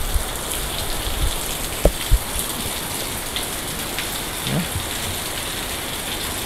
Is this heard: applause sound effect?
no